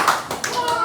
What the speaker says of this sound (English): Everybody, 2 claps and a hooray.